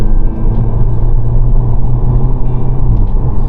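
Cabin rumble of a cheap UK VW Golf pulling under acceleration, a heavy low engine drone holding steady with a slight dip as it shifts gear.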